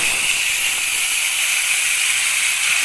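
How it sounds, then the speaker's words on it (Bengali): Chopped tomatoes sizzle in hot oil with cumin and bay leaf while a tilapia curry is being made, giving a loud, continuous, close hiss with no break and no talking. "এবার দিয়ে দেবো কেটে রাখা টমেটো।"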